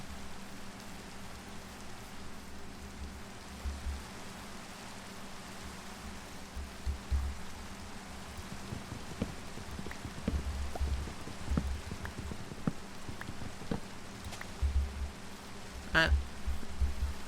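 Steady rainfall in the Minecraft video game, a soft continuous hiss with scattered drop ticks and light patter growing slightly busier toward the end, heard alone without speech.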